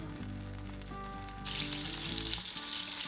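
Steady sizzling of butter melting in a hot pan, a soft continuous frying crackle that grows a little brighter partway through, with no voices.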